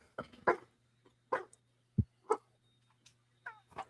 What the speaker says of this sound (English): I got a grumpy dog